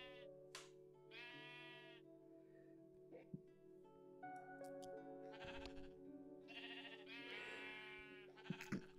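Sheep in the Minecraft video game bleat in short, repeated calls that rise above a steady low hum of game sound, with quieter clicks and pauses between the calls.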